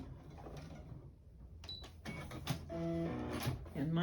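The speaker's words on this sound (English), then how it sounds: "my machine cuts the thread for me" A sewing machine automatically trims its thread after hemming an armhole, giving quiet whirring and a few short clicking, snipping mechanical sounds in a calm room.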